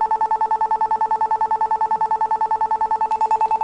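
A SIP call rings out on a phone after dialing, a rapid run of short, evenly spaced electronic tone pulses repeating steadily and loud throughout, with no one speaking.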